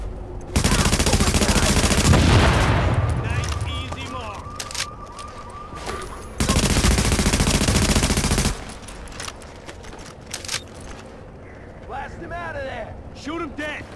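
Bursts of gunfire from the video game Tom Clancy's The Division, with two loud sustained volleys and scattered shots in between, fading to quieter intermittent pops, with speech at times.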